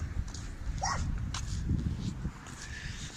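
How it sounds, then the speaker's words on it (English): Dogs left outside barking and whimpering, a couple of short yips and whines set at a distance against a constant outdoor background rumble. "Leaving the dogs out to bark."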